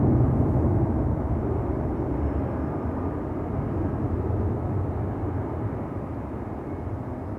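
An airliner in banana livery takes off at Schiphol Airport, a loud, steady broadband jet roar that fades gradually as it climbs away.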